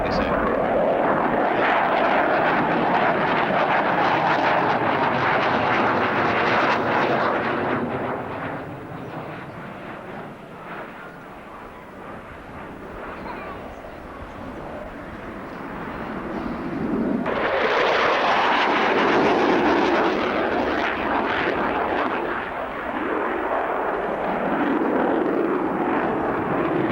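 A military jet roars through a flying display at the 1990 RAF Abingdon airshow, a loud, continuous rushing thunder that swells, dips for a few seconds and then surges again, with a commentator's voice underneath.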